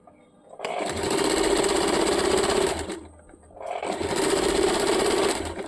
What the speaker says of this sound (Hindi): अभी फिर से नॉर्मल सिलाई चलाएंगे।